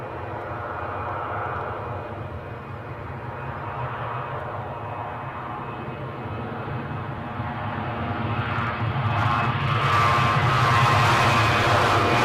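A plane's engines roar over Edinburgh Airport, a broad continuous rumble that swells louder toward the end as the aircraft nears, with no talk.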